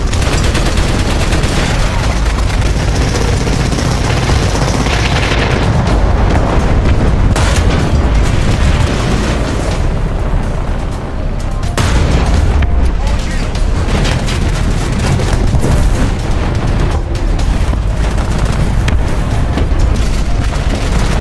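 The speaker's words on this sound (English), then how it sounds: "SPA team has to be very particular of where and when they're shooting with their high rate of fire cannons" Rapid high-rate cannon fire from anti-aircraft vehicles battling WW2 tanks in War Thunder, a dense, loud, continuous barrage of booms and explosions, with a voice talking over it.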